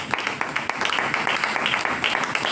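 A church congregation applauds in a dense, steady wash of clapping across the whole stretch, with sharper individual claps popping out now and then and no voices on top.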